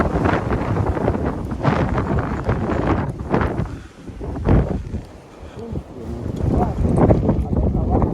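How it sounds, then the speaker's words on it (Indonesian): Strong wind roars across a mountainside near a crater on the climb up Mount Sumbing, buffeting the microphone in loud, continuous gusts that dip briefly mid-way before surging again. "Anginnya guys, luar biasa."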